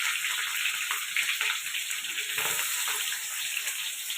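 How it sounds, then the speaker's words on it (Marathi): Onion and green chilli frying in a pan with cumin, a steady broadband sizzle holding close and fairly loud throughout with small stirring shifts. "तर कांदा चांगला लाल होईपर्यंत आपण तळून घ्यायचा आहे।"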